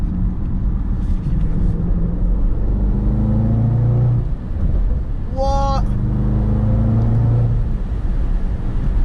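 A Range Rover Sport SVR engine rumbles and revs steadily up close while accelerating, with a brief vocal exclamation partway through.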